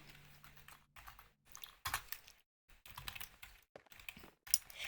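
Close, quiet clatter of computer keyboard keys during a Minecraft session, typed in short bursts of rapid clicks separated by brief pauses.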